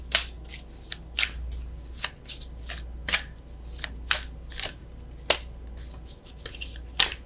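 Oracle cards shuffled by hand for a tarot reading, a series of quick, crisp riffling snaps at irregular intervals, close and clear with a faint background hum.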